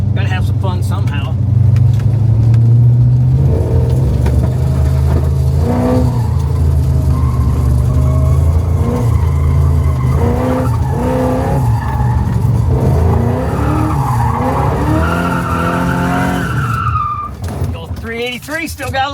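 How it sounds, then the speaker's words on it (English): A car doing burnouts roars close and loud, its engine revving hard and holding high as tires squeal and skid for a long, sustained stretch before easing off near the end. "He's giving us a little permission to make some noise today and do some burnouts."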